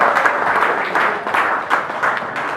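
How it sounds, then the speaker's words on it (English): Audience at a seadogs' annual feast applauds a guest lecturer, a loud, close, continuous patter of many hands clapping with gentle swells in intensity. "I expected a clap for that."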